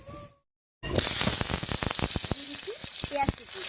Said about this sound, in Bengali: এবারে এই তেলের উপরেই দিয়ে দেবো কেটে রাখা রসুন,